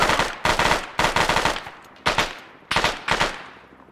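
Automatic gunfire in the military shooter game ArmA rattles out in about six loud, close bursts of rapid shots, each cut short and followed by brief pauses and fading echoes.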